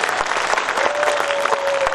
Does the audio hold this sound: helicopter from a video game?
no